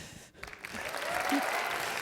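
Audience applause at a military ceremony, a brief dip then a swelling wash of clapping that builds and holds for a couple of seconds.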